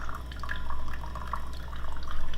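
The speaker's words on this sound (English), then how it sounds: "So you want to pour the water like right on the coffee." Water poured over ground coffee in a pour-over brewer gives a soft, close trickle with light drips, quiet and continuous with no talk.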